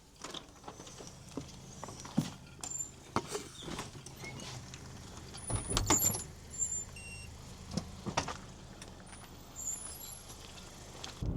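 A car driving along the road on the way to the gym, heard from inside the cabin as a steady low road rumble with scattered clicks and rattles, no talking over it.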